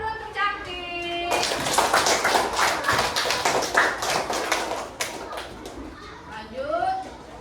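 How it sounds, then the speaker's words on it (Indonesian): Children in an elementary school classroom clap together in a dense, lively burst of applause lasting several seconds, with a teacher talking before and after. "beri tepuk tangan dulu untuk Cantik"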